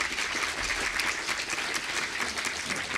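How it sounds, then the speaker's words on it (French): After a lecture on new Earth-like planets, an audience breaks into warm applause, a dense continuous clatter of many hands that holds steady throughout with no speech. "Merci Jean-Pierre Bivring, je crois qu'on peut l'applaudir chaleureusement."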